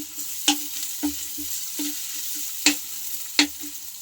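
Ginger sizzles and fries in a pan while cooking for a traditional Filipino chicken sinampalukan, with a steady crackle punctuated by several sharp clinks and scrapes of a utensil stirring against the pan.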